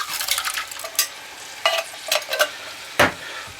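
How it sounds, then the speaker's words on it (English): Canned fire-roasted diced tomatoes being poured and stirred into a pot for southwest chicken and rice, with soft wet scraping and clinks, a few sharper bursts near the middle and end. "We're going to add in 1 can of fire roasted diced tomatoes"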